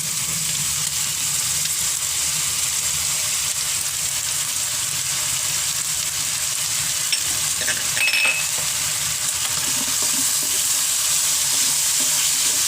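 Batangas lomi noodles sizzle steadily in a pan after oyster sauce and black pepper go in, with a continuous close frying hiss, stirring scrapes and a couple of faint utensil clinks, no talking.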